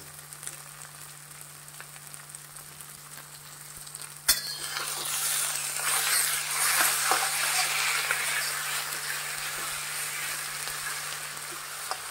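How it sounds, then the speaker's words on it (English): Beef stir fry hits a very hot kadai over a high flame at about four seconds, bursting into loud, steady sizzling and frying that keeps on to the end, with faint stirring clinks. "The kadai should be very hot in order to saute any stir fry."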